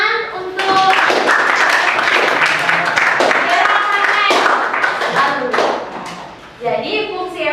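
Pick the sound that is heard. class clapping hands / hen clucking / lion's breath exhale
class clapping hands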